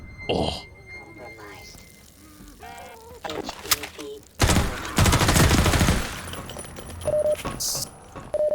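Submachine gun fire in the Half-Life 2 video game comes as a loud, dense burst of rapid shots in the middle, set among other game sounds, beeps and clatter.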